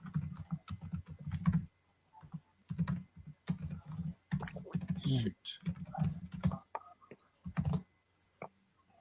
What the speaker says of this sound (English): just doing that typing thing